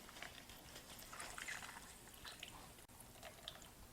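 Water squeezed by hand out of soaked king oyster mushrooms, a close, soft trickling and dripping with wet squelches running continuously, plus one brief sharp tap.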